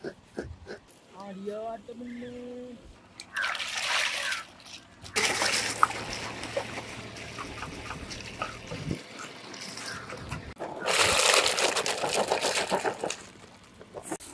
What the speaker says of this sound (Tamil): நல்லா அலசி அள்ளி போடுறா